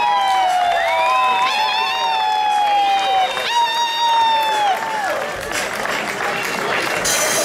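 The crowd at a breaking dance battle cheers, whoops and claps loudly near the microphone, with shrill rising shouts and whistles through the first half, then a looser murmur of clapping and chatter.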